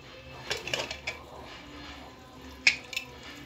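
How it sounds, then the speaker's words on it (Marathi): A pressure cooker lid being opened in a home kitchen, a few soft metallic clinks and a sharper clack of the lid, with faint drips and rattles, quiet and close. "आपण टोपण काढून बघूया"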